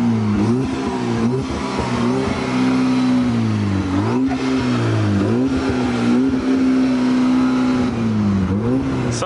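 An Audi car engine revving hard at a roadside police stop, a loud, close, continuous droning roar that dips and climbs in pitch several times as the throttle is blipped.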